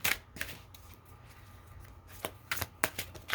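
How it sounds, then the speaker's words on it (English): A Tarot of Dreams card deck is shuffled up close in a few quick papery riffles and flicks, scattered across a short stretch over a soft background hiss. "Let's go ahead and shuffle up the Tarot of Dreams deck here."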